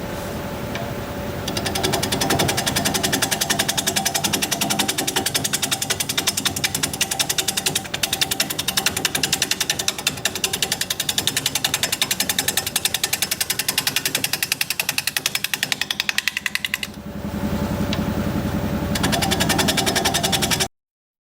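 A wood lathe spins a natural edge bowl while a 5/8 inch bowl gouge cuts it, giving a loud, continuous rapid chattering rattle that runs steadily before easing briefly and resuming.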